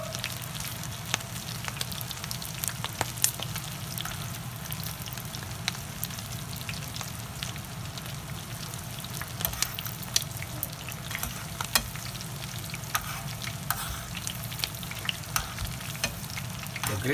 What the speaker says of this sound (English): The grease is hot, boiling hot.